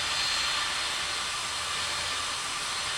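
Aircraft taxiing toward runway 26 right at KONT airport in Tower! Simulator 3 produce a steady, unbroken jet-engine roar with a broad hiss, holding level from start to finish with no other sounds.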